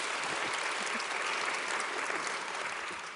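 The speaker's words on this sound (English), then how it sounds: "Let's give them one more round of applause." Steady applause from an audience, a dense wash of clapping hands that holds evenly for a few seconds.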